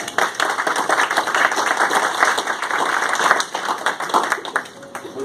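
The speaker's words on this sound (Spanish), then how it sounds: "el señor Enrique Paredes, para quien pido por favor un fuerte aplauso" An audience at a green inclusive finance forum applauds a speaker called to the stage, with dense, sustained clapping from many hands lasting about five seconds and thinning slightly toward the end.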